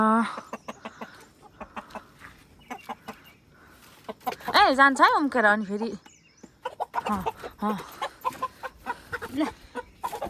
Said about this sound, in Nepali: कुखुरा चाहिँ हुनुहुन्छ यहाँ खोरभित्र, भाले मार्नु आँटेको।